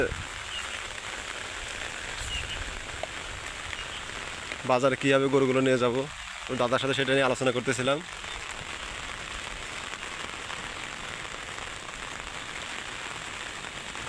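Heavy rain pours down during a storm, a steady close hiss of drops on surfaces running the whole way through, with someone talking briefly in the middle.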